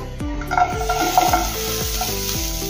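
Chopped onion sizzles in a pan on a gas stove while being stirred, a steady frying hiss mixed with spoon scraping and a run of low rhythmic knocks, close and fairly loud with no talking.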